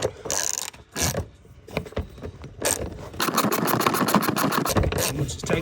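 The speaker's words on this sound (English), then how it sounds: "Ratchet on." Ratchet wrench tightening the battery bracket on an Audi TT during a battery change, a loud rapid clicking run of pawl ticks up close, preceded by scattered scraping and mechanical clunks.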